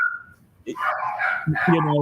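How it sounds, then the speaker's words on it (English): Dogs bark in the background, a few short yips and barks rising under and between people talking nearby. "when the dogs are barking in the background"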